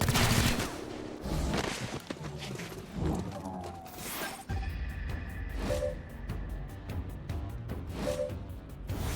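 Gunfire volley in the tactical squad game XCOM Chimera Squad: a clattering flurry of loud shots and impacts up front, easing into scattered, sharper reports and mechanical clicks against a low background bed.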